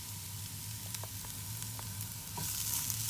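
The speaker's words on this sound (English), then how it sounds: "So after we've sauteed the garlic a little bit" Garlic sautéing in a pan with onions, a continuous sizzle broken by light utensil clicks and scrapes, brightening toward the end.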